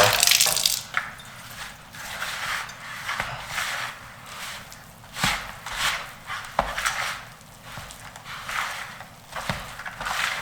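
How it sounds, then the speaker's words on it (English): Sourdough starter is worked by hand into whole wheat flour, bread flour, salt and water, giving soft wet squishing and slapping sounds in an irregular rhythm, close and fairly quiet. "just mix it all up, get that starter mixed in with the whole wheat and the bread flour and the salt"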